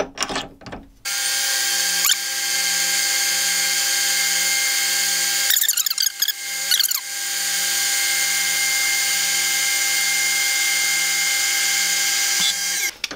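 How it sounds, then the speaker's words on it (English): A metal lathe turning down the outer diameter of a steel tap handle, giving a steady high whine with a strong tonal hum, broken by a few short rattling cuts in the middle, loud and continuous. "we can just begin to turn down a little bit of this outer diameter"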